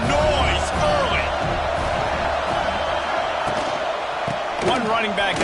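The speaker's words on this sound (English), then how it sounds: "This crowd bringing the energy and noise early." A loud Notre Dame college football crowd roars continuously at the stadium, with cheers and whoops rising over the din while a commentator talks throughout.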